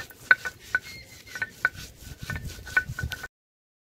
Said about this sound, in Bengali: জিরে লঙ্কা বাটা হয়ে গেল